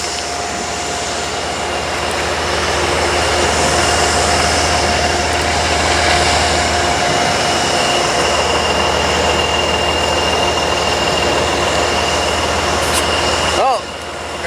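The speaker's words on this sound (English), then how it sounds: "our first train of the morning in Hudson" A CSX train rolls through Hudson on a Monday morning, a loud, steady rail rumble with a faint sustained tonal hum, ending with a brief bump near the end.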